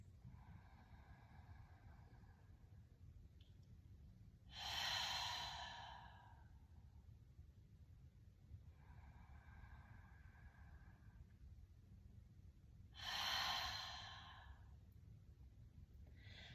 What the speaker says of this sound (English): in through the nose and out from the mouth completely